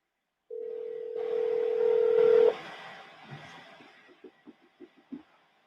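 A telephone call being dialed: a steady dial tone starts, a rising burst of dialing follows, and then a string of short evenly spaced ringback pulses comes through faintly.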